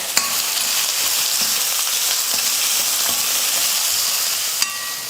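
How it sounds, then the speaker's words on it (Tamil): Finely chopped large onions fry in oil in a pan with dried red chillies and curry leaves, a steady, close, even sizzle throughout with a couple of faint stirring clicks and no voices. "வெங்காயம் நல்லா வதங்கிடுச்சு"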